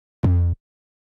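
A single heavily processed, distorted 808 bass note hits hard and sustains for about a third of a second before cutting off abruptly, alone with no talk.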